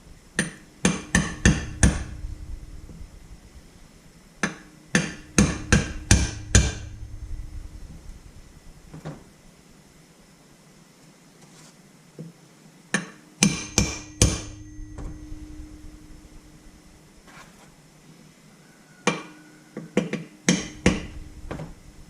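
A hammer taps a bearing into place in a Honda CB125E engine gearbox in quick bursts of sharp strikes, several rapid blows at a time separated by short pauses, close and fairly loud.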